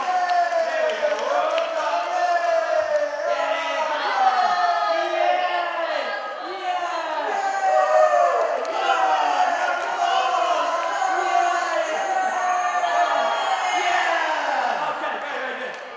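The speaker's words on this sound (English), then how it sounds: "Give a round of applause." An audience cheers and whoops loudly in a room, a dense continuous roar of many voices that stays near and steady, without clear separate claps.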